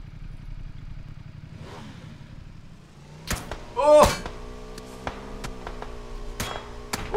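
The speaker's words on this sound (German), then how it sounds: "Ich fahr mit dem Motorrad, komm dann wieder zurück zu dir." A motorcycle engine in the video game PUBG, a low steady idle and rumble, then sharp clattering knocks and a brief rising rev, with sporadic impacts continuing afterward.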